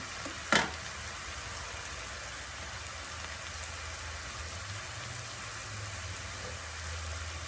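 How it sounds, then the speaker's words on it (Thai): Onions frying in a pan for a steak sauce give a soft, continuous sizzle with a quiet, rain-like crackle, one sharp tap near the start, and no voices. "ทอดหอมให้ เป็นใส ๆ นะคะ"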